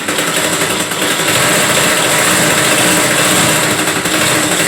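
A sewing machine runs a straight seam on a five-year-old girl's frock, giving a loud, steady, continuous motor whir with no pauses and no talking.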